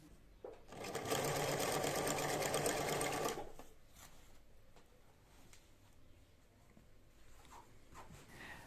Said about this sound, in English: let my mom do a second stitching with the machine